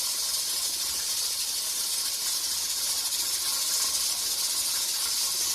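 A pressure cooker used for mushroom cultivation hisses steam steadily as its weight rocks, a constant, fairly loud, close sibilant rush with no clear breaks, and no one speaking.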